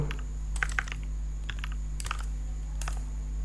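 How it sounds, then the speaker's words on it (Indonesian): Keys on a computer keyboard are tapped in short, close bursts of clicks with pauses between them, set over a low steady hum. "Kemudian kita ketik .stream."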